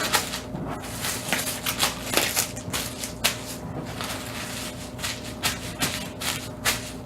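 Rubbed pork butt being wrapped up for smoking, a series of close crinkling and rustling crackles of wrapping material in irregular bursts, fairly quiet.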